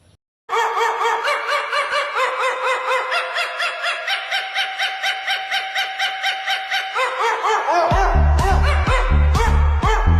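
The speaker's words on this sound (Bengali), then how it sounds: "গেয়েছেও কুত্তা মিউজিক দিয়েছেও কুত্তা" A dog barks rhythmically in steady yaps over a backing track, the music swelling louder with heavy beats near the end.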